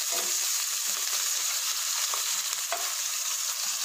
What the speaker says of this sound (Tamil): அடுப்பில் கடாய் வச்சு ஆயில் ஊற்றிக்கோங்க. சூடானதோ வெங்காயம் சேர்த்துக்கோங்க.